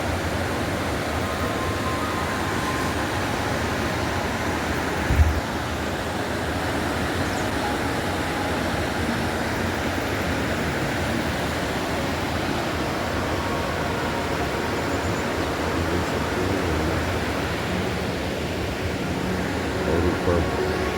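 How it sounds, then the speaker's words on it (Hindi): A mountain waterfall on the Shrikhand Mahadev Kailash Yatra trail in Himachal Pradesh, India rushes with a steady, unbroken roar throughout, fairly loud and close, with one brief thump early on. "और ये इधर झरना है कल कल करता"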